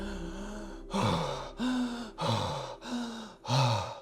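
Five hard, rhythmic breaths at high workout intensity, each a loud, rushing inhale or exhale with short pauses between, close to the ear and with no talking.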